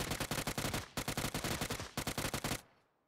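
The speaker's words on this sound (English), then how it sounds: "Somebody else shooting at his ass." Rapid automatic gunfire in PUBG, loud and close, fired in three long bursts of evenly spaced shots separated by short pauses, ending with a brief fading tail.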